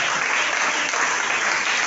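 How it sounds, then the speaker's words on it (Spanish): Loud, dense applause from a large church congregation fills the space, a continuous roar of clapping hands without pause. "Dale un aplauso al Rey de Reyes y al Señor de señores"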